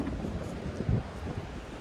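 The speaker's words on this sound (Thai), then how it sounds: "ลมแรงมากนะคะ" Strong wind on a mountainside where mushrooms are being gathered, a steady low rumble of gusts buffeting the microphone, with a brief stronger gust near the middle and no talking.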